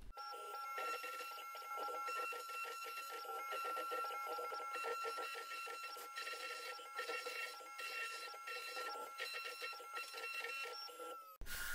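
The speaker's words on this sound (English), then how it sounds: "I'm adjusting zero position and starting CNC." CNC machine engraving a logo with a 45 degree bit, a busy stream of high-pitched whining and rapid clicking steps from the stepper motors, steady and loud, alone, stopping abruptly at the end.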